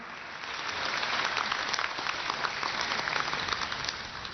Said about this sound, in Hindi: एक बार जोरदार तालियां हो जाएं पंडित जी के लिए।